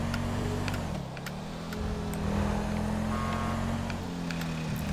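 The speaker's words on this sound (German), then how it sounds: "Klingelt ein bisschen der Motor." A worn car engine in Grand Theft Auto 5 drones steadily with a slight knocking, a low, constant hum with a small shift in pitch, close and continuous without voices.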